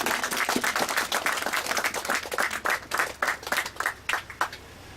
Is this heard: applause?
yes